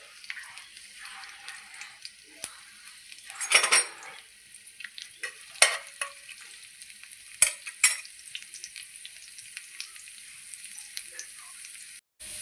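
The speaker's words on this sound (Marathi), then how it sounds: "त्यामध्ये आता मी लसूण टाकून घेणार आहे" Garlic sizzles in a small amount of hot oil in a pan for a cluster bean curry, a soft steady frying hiss broken by several loud scrapes and clinks of a spoon stirring against the pan.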